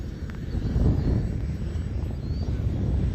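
Arrows RC Bearcat model airplane taking off slowly without flaps, a steady electric motor drone beneath wind buffeting on the microphone, no one speaking.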